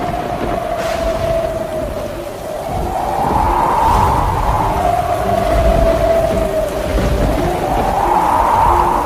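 A storm in a forest with heavy rain and rumbling thunder, loud and continuous, with a wavering tonal hum that rises and falls through the roar and no voices.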